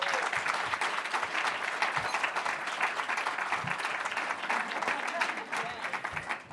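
Sustained audience applause at a philanthropy and community awards event, dense steady clapping from a large crowd continuing throughout without a break.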